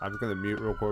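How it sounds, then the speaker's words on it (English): Emergency sirens wail outside, a steady high tone running beneath a nearby person talking over them. "Sorry for the sirens, by the way."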